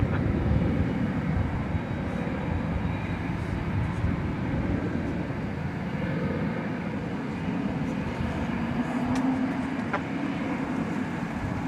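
A jet airliner takes off at Dallas Fort Worth International Airport, a steady, broad, distant roar that holds at an even level throughout with no voices.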